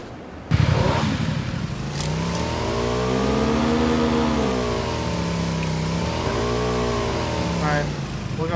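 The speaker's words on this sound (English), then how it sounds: "Let's just take their bike up to it." Motorcycle in PUBG starting up and carrying two riders uphill, its engine droning loud and close with wavering revs throughout, under occasional talk.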